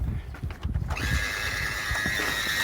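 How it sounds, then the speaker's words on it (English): Boat autohelm autopilot motor starting as it is plugged in: a faint clatter of handling, then a steady whirring mechanical hum with a thin whine, close and quiet. "The motor's going to start the minute you plug it in."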